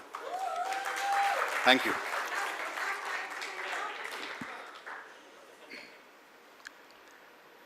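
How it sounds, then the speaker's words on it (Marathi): A Marathi film trailer launch audience claps loudly and steadily for several seconds, with a short voice heard over it, then the applause fades to scattered claps and quiet. "एकदा जोरदार टाळ्या पुन्हा एकदा"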